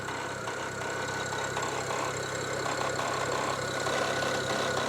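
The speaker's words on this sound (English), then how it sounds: "I do want to show you guys a weird noise that the car is making" A BMW 335i idles with a weird knocking noise from the engine, a steady mechanical hum with faint repetitive ticking heard up close and without talk.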